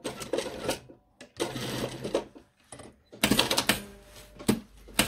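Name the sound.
sewing machine stitching trousers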